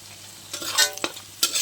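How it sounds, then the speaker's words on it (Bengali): Capsicum, beans and carrot tossed and stir-fried in a hot pan, a few quick scraping stirs with soft sizzle between, close and brief with no speech. "ক্যাপসিকাম, বিনস আর গাজরটা একসাথে দিয়ে দেবো, সঙ্গে লঙ্কা কুচিটাও দিয়ে দেবো"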